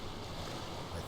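Waterfall in the game Manfred Testorson: a dense, continuous rush of falling water, loud and close, steady through the whole short stretch with no breaks.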